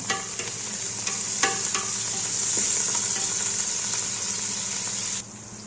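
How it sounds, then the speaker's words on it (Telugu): Mint and coriander leaves fry in a pan for biryani, giving a steady loud hiss of sizzling oil with a few utensil knocks, close up, until the sizzle drops away abruptly near the end; no one speaks. "చూడండి, కొత్తిమీర, పుదీనా ఇవి కూడా కొద్దిగా వేగిన తర్వాత"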